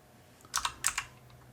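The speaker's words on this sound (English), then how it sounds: "Now we're going to type in exit." Router commands typed on a computer keyboard come as a quick burst of a few crisp, close keystrokes in two small clusters, over faint room hiss.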